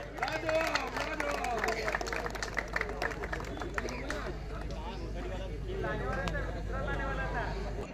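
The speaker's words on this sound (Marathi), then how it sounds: "झहीरभाई यांच्यासाठी टाळ्या व्हायला हवं." Crowd applause for a guest at a prize ceremony for a cricket premier league in Virar: a continuous rush of clapping and murmur, with a loud voice talking over it throughout.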